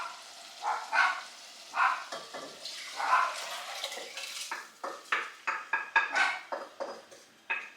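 A salad marinade of salt, honey and white vinegar is stirred in a bowl, the utensil clinking and tapping against the sides in irregular bursts, close up with no talking.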